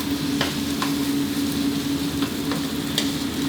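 An egg stir-fries, sizzling steadily in a hot oiled pan while a utensil scrapes and taps against the metal at irregular intervals, close up.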